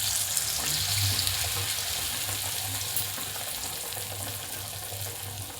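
Potato patties fry in hot oil with a dense, steady, fairly loud hiss and crackle that runs the whole time and eases slightly toward the end, with a low hum beneath and no talking.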